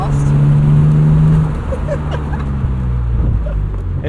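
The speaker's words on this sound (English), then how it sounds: "A little burble from that exhaust." A 1999 BMW Z3 M Roadster engine burbles and rumbles at low pitch, a steady idle tone giving way to rougher exhaust pops, with people talking nearby.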